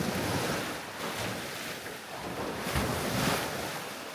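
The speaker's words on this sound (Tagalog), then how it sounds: "Dito malakas yung alon" Strong ocean waves crash and wash along the shore on Bantayan Island in a loud, continuous surf roar with surges, mixed with wind buffeting the microphone.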